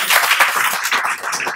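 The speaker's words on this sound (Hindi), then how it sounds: "जोरदार तालियां" Loud, dense applause from an audience at a gathering, with a continuous wash of many hands clapping over a couple of seconds.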